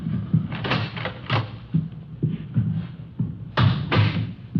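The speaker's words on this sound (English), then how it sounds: "I'll get the door." Radio drama sound effects of a hotel room door being handled: a series of wooden thumps, knocks and clunks in an irregular rhythm, close and fairly loud, with no talking over them.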